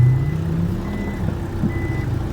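A truck reversing on a narrow road, its deep engine rumble and air hiss holding steady and loud near by, with a faint high repeating tone through most of it and no talking.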